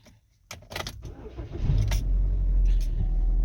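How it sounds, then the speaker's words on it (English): A 2011 Chevrolet Equinox with a newly programmed ECM and key starts: keys jingle briefly, then the engine cranks and catches into a steady, close idle. "And there it is. The car is started."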